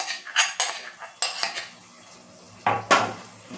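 A spoon scrapes and clinks against a pan while garlic chutney is mixed into potatoes, giving several short, close metallic knocks with quiet pauses between them.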